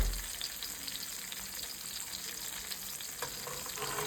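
Steady, dense sizzle of white perch fillets frying in a pan of hot oil, a close, even crackle throughout with no talk.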